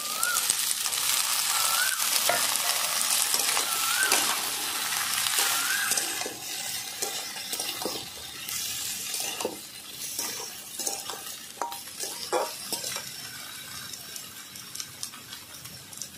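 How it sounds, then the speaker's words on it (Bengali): Cut vegetables frying in a pan with browned onion for a Bengali bean-seed and drumstick curry, sizzling close by while being stirred, with scraping and clinks of a utensil against the pan, the sizzle easing partway through. "এবার আমি সব এক এক করে সবজিগুলো কেটে রাখা দিয়ে দেব।"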